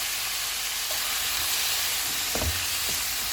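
Capsicum and onion cooking in a pan with soy sauce and vinegar give a steady, loud, continuous sizzle with a few soft stirring knocks, and no talking.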